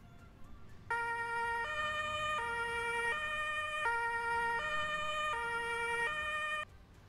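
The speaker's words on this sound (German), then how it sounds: "dass da ein Polizeiauto kommt, beziehungsweise ein Einsatzfahrzeug mit Blaulicht, mit Martinshorn, mit Sonderrechten" A police emergency vehicle in the farming game Landwirtschafts-Simulator 22 sounds its two-tone Martinshorn siren, alternating high and low pitches in a steady, even cycle for several seconds before cutting off.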